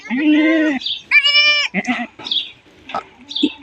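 A goat that has just given birth bleats loudly and close, two long wavering cries followed by shorter, softer bleats and small rustling sounds.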